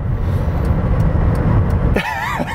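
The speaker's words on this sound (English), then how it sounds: "All right, flooring it here." A 2002 Hyundai with a six-cylinder engine accelerates at full throttle, a steady loud engine drone from inside the cabin that rises sharply into a higher whining tone near the end.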